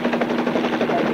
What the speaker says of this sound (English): I'm a helicopter pilot. I'm flying above your house right now.